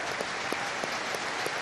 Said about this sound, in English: So applause all around the stoop, people rising to their feet